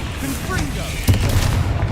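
A Confringo fire spell blast in Hogwarts Legacy, a short booming impact burst midway through, heard alongside game sounds and a voice.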